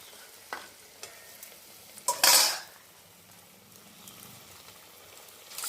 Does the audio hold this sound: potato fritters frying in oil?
yes